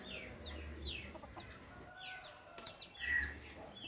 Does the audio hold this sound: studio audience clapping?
no